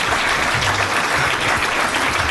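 An audience in a conference hall applauds steadily to welcome a speaker, a dense, even wash of many hands clapping, close and loud throughout.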